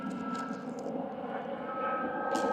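A fixed-wing aeroplane passes overhead, a steady droning engine roar holding at moderate loudness throughout without speech.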